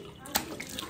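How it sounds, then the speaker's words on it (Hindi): Cold mountain tap water runs and splashes as a face is washed, a brief louder splash standing out over steady trickling. "तो कुछ टाइम बाद बस अब इसको वॉश कर लेते हैं अच्छे से अब।"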